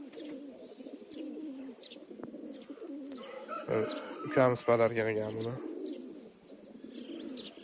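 Pigeons kept at home coo softly in the background, a low repeated murmuring with occasional chirps, while someone talks nearby and a louder burst of sound rises briefly mid-clip.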